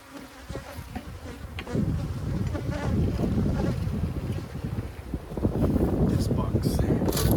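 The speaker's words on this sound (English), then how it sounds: "A lot of bees are trying to reorientate back to here." Honey bees swarm and buzz around an abandoned hive, a dense steady drone that rises in loudness and stays close and continuous throughout, with wind and occasional handling noise mixed in.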